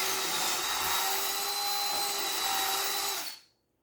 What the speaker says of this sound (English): drill our holes for our eye bolts